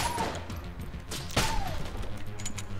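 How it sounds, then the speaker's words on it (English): Gunfire from a weapon in the video game Enter the Gungeon, a few sharp shots ringing out over dense game sound effects and background music, with one burst standing out clearly midway. "it shoots out three shots"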